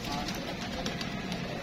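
Pigeons coo softly in a continuous, muffled stretch, with steady background noise throughout and no clear talk.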